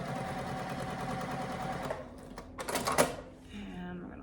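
A sewing machine stitching quilt fabric in a flip-and-stitch step, a steady mechanical whirr that runs for about two seconds, then stops, followed by a few clicks and handling knocks.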